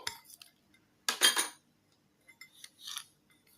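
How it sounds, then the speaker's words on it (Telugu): A spoon stirs sugar and vanilla in a bowl, making short bursts of metal scraping and clinking against the bowl, separated by brief silences, close and fairly quiet. "మంచిగా బాగా బ్లెండ్ చేయాలండి ఇలాగా"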